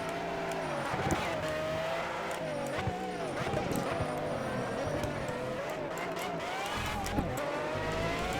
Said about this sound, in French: J'espère que vous entendrez également bien le moteur parce que franchement ça a plutôt un bon son.